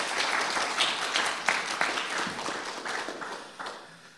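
A church congregation at a Sunday service claps in a dense burst of applause that gradually thins and fades over a few seconds.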